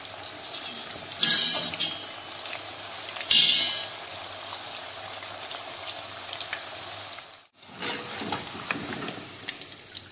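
Banana slices for banana chips fry in hot oil with a steady close sizzle, broken by two brief louder bursts of stirring and a momentary dip in the hiss.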